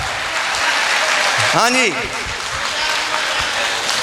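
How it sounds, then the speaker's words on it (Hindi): Steady audience applause at a public speech event, a dense wash of clapping that runs throughout, while someone briefly speaks over it. "इन दोनों के लिए जोरा ताली होनी चाहिए"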